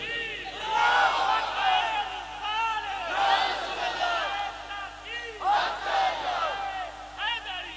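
A large crowd at a religious gathering chants slogans in unison, with loud, rhythmic waves of many voices rising and falling throughout over a low steady hum.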